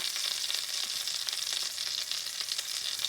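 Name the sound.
homemade sausages and thick cut bacon frying in a pan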